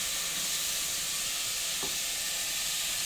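Rice sizzling in olive oil in a pan while stuffed bell peppers are being cooked, a steady close broadband hiss with no talking.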